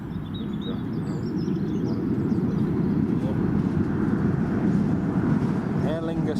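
An Aer Lingus airliner inbound from Dublin approaching Newcastle International Airport, a broad, steady roar at moderate distance that swells slightly, with a voice briefly near the end.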